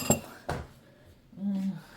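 Dishes and glassware clink together in two sharp knocks while being washed, followed by a brief low hum, close by with no talking.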